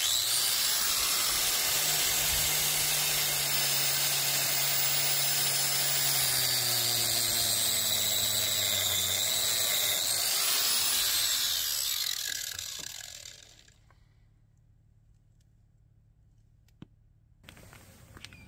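Stainless steel braided fuel line for a Harley breather bypass is cut with a high, whining, rasping tool noise, close and steady for about thirteen seconds before it cuts out to near silence with a faint tap near the end.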